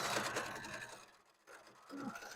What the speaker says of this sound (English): I'm sewing a 1/4 inch seam, 1/4 inch